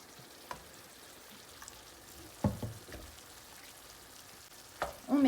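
Water splashes into a pan of tomato paste in a few soft, short pours and stirs over a low, quiet sizzle, with scattered faint clinks.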